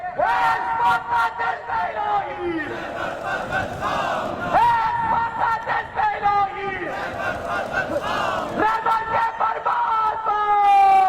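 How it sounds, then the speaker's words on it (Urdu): Large crowd at an Ashura procession in Karachi chanting slogans in loud, rhythmic rising calls, with a single voice leading over the massed shouting throughout. "اور یہ جو نعرے ابھی لگے ہیں"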